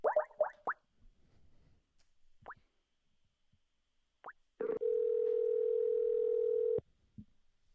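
A telephone is being dialed: several quick touch-tone beeps and a few isolated beeps sound first, then a steady dial tone holds for about two seconds before cutting off abruptly.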